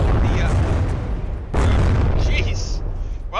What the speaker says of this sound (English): the Type 621 MBT went AI dead, and then its turret detonated